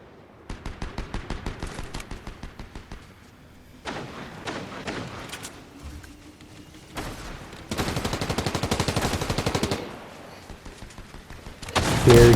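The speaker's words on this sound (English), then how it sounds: "have a lot of shooting here" Bursts of rapid automatic gunfire from the Fortnite video game in a forest, with several separate volleys, scattered single shots and thuds, and a longer sustained burst near the end, all loud and close.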